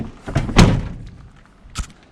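The door of a 1st gen Cummins truck is shut, giving a solid close thunk followed by a smaller latch knock a moment later, close up and alone.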